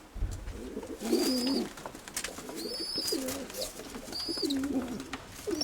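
A pigeon coos nearby in repeated soft, throaty phrases, about three bouts, with faint bird chirps in the background.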